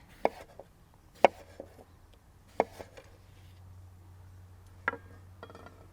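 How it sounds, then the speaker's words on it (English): A kitchen knife cuts down through a cucumber on a board, with a few sharp, separate knocks spread out against quiet background hum. "I'm going to cut this cucumber and I'm going to rest my knuckles right on top while slicing down all the way through the cucumber"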